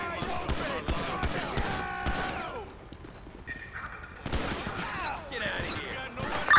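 Bursts of gunfire in Grand Theft Auto V during a police shootout in the city, repeated cracking shots over game sounds and sirens, with players talking over the action.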